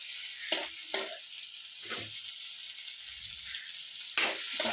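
Potatoes frying in a pan with a steady close sizzle, broken by a few sharp stirring scrapes and clatters of a utensil against the pan, with no talking.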